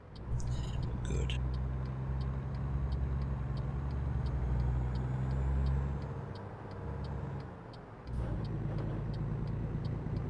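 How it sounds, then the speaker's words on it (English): A truck's turn signal ticks in a steady, regular rhythm inside the cab in American Truck Simulator, over a low, constant engine drone, with a brief hiss of air near the start. "Let's get some indicators on."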